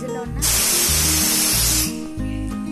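A pressure cooker with a steam-release whistle lets out a loud, continuous hiss of escaping steam for over a second, set against a low rhythmic hum, close and without speech.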